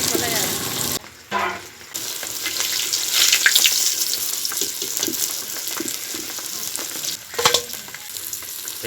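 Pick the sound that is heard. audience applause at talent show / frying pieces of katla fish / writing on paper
frying pieces of katla fish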